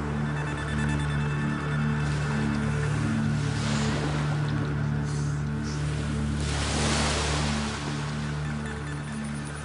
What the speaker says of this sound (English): This time, he's programmed in even bigger waves.